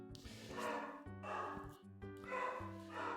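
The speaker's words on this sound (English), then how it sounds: "And the dog is barking at me." A dog barks repeatedly in short, muffled bursts at a fairly regular rhythm, faint and somewhat distant.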